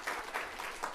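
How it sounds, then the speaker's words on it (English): Brief burst of audience applause at a real estate investing seminar, a dense, even patter of many hands clapping for a participant, moderately loud and close. "a round of applause for Lindsay"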